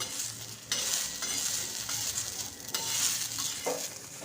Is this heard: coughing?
no